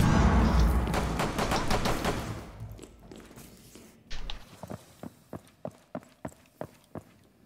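Rapid bursts of gunfire from a chaotic video game about shooting teddy bears, loud and dense at first, then fading into a series of evenly spaced single shots.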